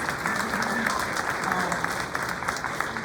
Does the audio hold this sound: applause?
yes